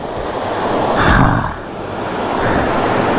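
Rachakonda waterfalls, set among hills, give a loud, continuous rush of falling water that swells briefly before settling back to a steady roar.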